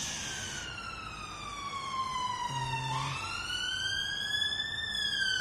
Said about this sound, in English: There's a really loud siren going past the studio at the moment